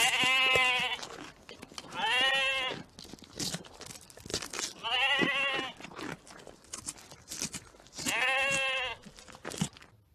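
Goats bleat in four loud, drawn-out, wavering cries spaced a couple of seconds apart, close by, with rustling and crunching between calls and a little speech underneath.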